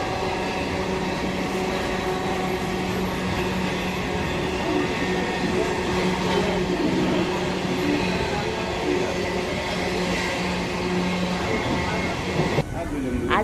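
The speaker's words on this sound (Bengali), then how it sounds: "মাত্র কয়েকজন যাত্রী নিয়ে পাঁশকুড়ায় পৌঁছালো আমাদের ট্রেন।" A passenger train heading into Panskura station rumbles and clatters steadily from inside the carriage, with a continuous low drone and a sharp knock near the end.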